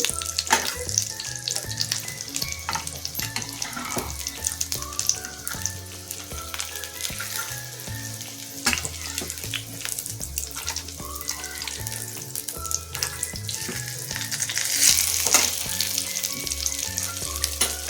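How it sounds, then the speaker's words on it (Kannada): Chicken cutlets fry until crisp in a pan with a loud, dense, continuous crackling sizzle up close. A faint tapping of utensils sits underneath, and nobody talks. "ಎರಡು ಸೈಡಲ್ಲೂ ನೀಟಾಗಿ ಕ್ರಿಸ್ಪಿ ಆಗೋರು ಫ್ರೈ ಮಾಡ್ಕೊಳ್ಬೇಕು"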